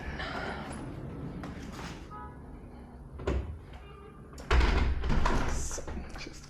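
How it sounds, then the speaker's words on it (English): A door in a tropical holiday house in Flic en Flac, Mauritius, shuts with a soft thunk, followed by a louder bump, amid quiet room noise. "So just closing the door."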